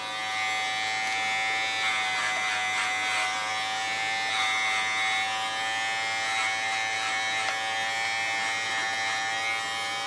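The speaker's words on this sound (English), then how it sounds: "Zelfde clipper." An electric hair clipper runs in a steady, close buzz as it cuts a short hairstyle from a bob, its hum pulsing slightly as the blade moves across the head; no talking is heard.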